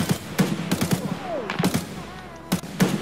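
Gunfire in the video game Escape from Tarkov: a loud, close burst of rapid automatic shots, then a pause and a second short volley, with a faint background hum between the shots.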